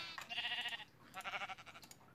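Two bleats from a sheep in the Minecraft video game, one long harmonic cry followed by a second after a short pause, moderately loud and alone.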